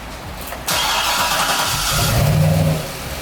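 A 2011 Corvette Grand Sport, freshly rebuilt after a wreck, cranks and catches with a sudden loud burst, then revs and settles into a strong, close engine roar that swells and holds steady.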